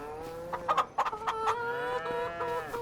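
Chickens cluck and squawk in the Farming Simulator 25 video game, close and fairly loud. Bursts of clucking come in several quick calls, then settle into a steady, sustained cackle.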